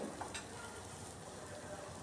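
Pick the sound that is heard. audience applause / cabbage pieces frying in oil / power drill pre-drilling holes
cabbage pieces frying in oil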